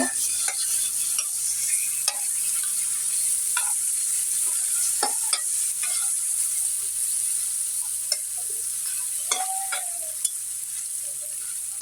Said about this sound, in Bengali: এক চামচ রসুন বাটা এখন এগুলা একটু ভেজে নেবো